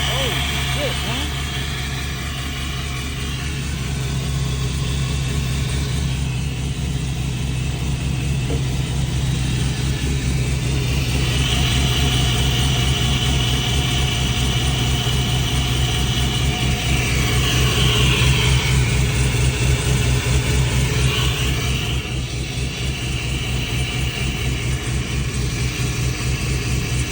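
A truck engine idles as it warms up, one of its transmission seals having been replaced, a steady low rumble with mild surges in revs running the whole time, while someone talks over it now and then.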